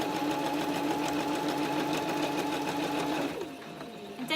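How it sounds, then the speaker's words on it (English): A sewing machine stitches fabric for a drawstring bunny gift bag, a fast, even, close mechanical whir for about three seconds before it slows and drops off, with a quieter tail of motor hum. "And don't forget to do your back stitch at the start and at the end of your sewing to lock your stitch in."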